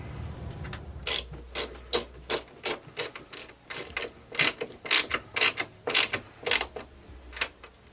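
A ratchet wrench tightens nuts onto a new ABS plastic motorcycle tour pack, clicking in repeated quick bursts of pawl ticks with short pauses between strokes, close and clear with no talk.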